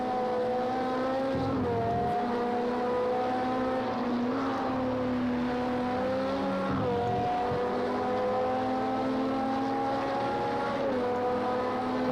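A race car engine at Le Mans in the video game Project CARS 2, running hot under air restrictors, drones loudly and continuously, its pitch rising and shifting through gear changes with no talk over it.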